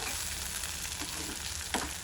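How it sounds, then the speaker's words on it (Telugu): Food sizzles steadily in a hot pan, a continuous crackling fry with a couple of soft stirring scrapes. "ఇంకొంచెం ఓపికతోటి ఫ్రై చేసుకుందాము"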